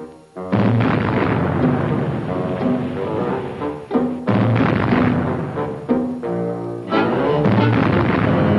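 A cartoon elephant gun in a duck-hunting gag blasts away in heavy, roaring booms, one huge sustained explosion after another over several seconds, loud and close with layered rumbling and music-like tones.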